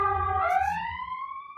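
An emergency siren in Chicago, a loud rising wail that sweeps upward and holds steady, heard clearly with a low rumble beneath and no talking.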